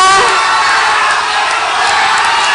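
A large audience at a regency head candidate debate in Lampung cheers and shouts continuously, a loud, dense crowd roar that stays steady throughout.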